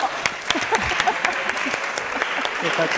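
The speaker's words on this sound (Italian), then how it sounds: "Complimenti, facciamo un applauso." An audience applauds after a talk on molecules and sustainability, with scattered, uneven claps that stand out sharply against a busy background murmur.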